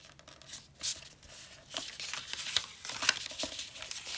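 Paper being folded and tucked into an altered book journal, with soft crinkling and rustling strokes and a few sharper creasing snaps, close and fairly quiet, no talking.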